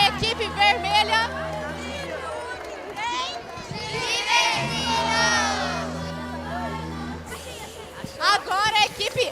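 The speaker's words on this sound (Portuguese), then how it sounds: "E aí o grito de luta da nossa equipe verde." A team at a teachers' union congress shouting its battle cry, a loud crowd chant with cheering and clapping that swells in the middle and rises again at the end.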